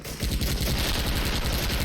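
Rapid automatic FN rifle fire in a video game rattles in a fast, steady burst of repeated shots, loud and continuous for about two seconds.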